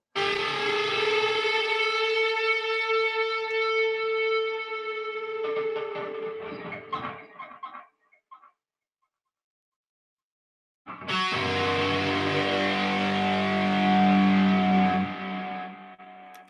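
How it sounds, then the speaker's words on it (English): Loud, screechy distorted electric guitar tones wail and sustain, cut to silence for a few seconds, then return with a heavy, grinding burst. "just some screechy guitars"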